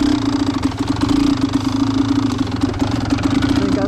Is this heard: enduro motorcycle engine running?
yes